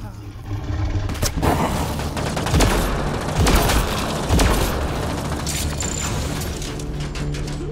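Rapid gunfire bursts and booms in the Mass Effect: Andromeda video game, with mechanical clanking and repeated impacts close and loud, while a voice speaks briefly at times.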